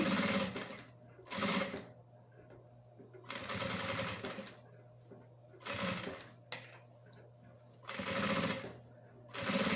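Sewing machine stitching piping onto a crossbody bag, sounding as close, loud mechanical bursts of several seconds each, separated by quiet pauses with a faint steady hum.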